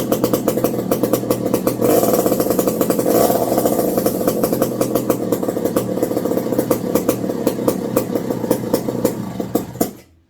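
A McCulloch Flatback chainsaw runs close and loud, its two-stroke engine buzzing with a steady rapid putter and small surges, still cold and unwarmed, before cutting off abruptly at the end.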